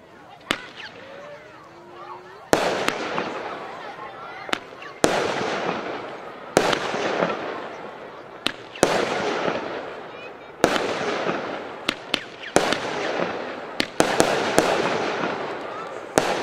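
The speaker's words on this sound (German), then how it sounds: "Position Nummer 13, ebenfalls eine 10-Schuss-Batterie für Argento, Hanami, 10 Schuss" Ten-shot fireworks battery (Argento, Hanami) firing at a New Year's fireworks product demonstration in Meißen, with a series of sharp launch bangs spaced about a second or two apart, each followed by crackling bursts, and a voice talking between shots.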